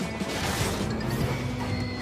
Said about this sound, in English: Shane crashed straight into a snowdrift.